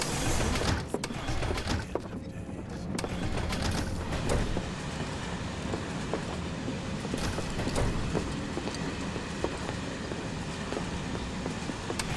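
A Final Fantasy VII Remake video game train at Sector 8 station rumbles steadily along with rattling wheels and occasional metallic squeals, loud and continuous throughout.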